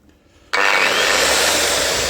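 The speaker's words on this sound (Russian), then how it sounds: "вот это продуктивная будет работа на 230-й болгарке" A 230 mm angle grinder bites into scrap metal after a brief quiet moment, a sudden loud sustained hissing, grinding roar that holds steady without speech.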